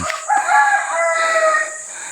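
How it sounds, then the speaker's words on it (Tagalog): A single drawn-out bird call in a forest of large trees, loud and close, rises and holds for about two seconds, with no voices. "huni ng ibon yan"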